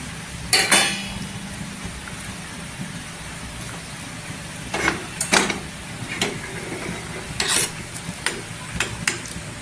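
Oil fries in a pan with a soft, continuous hiss, while a spoon scrapes and taps against the metal now and then in short bursts.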